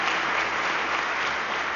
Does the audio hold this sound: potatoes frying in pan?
no